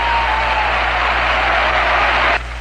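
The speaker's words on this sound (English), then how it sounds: "Listen to the crowd." A baseball stadium crowd roars and applauds in a dense, loud, continuous wash as the Mets clinch a tie for the pennant against the Cardinals, cutting off abruptly near the end.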